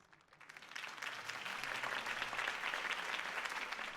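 A crowd at a political campaign rally in the Telltale Batman video game breaks into applause that swells within a second and then keeps up as steady, dense clapping.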